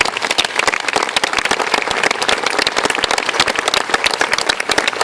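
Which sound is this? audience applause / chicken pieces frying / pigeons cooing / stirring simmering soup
audience applause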